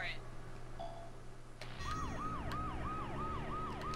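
A police car siren wails in the Blast Corps video game, a repeating up-and-down electronic whoop that starts abruptly after a low engine drone and keeps cycling with steady rhythm under faint game sounds.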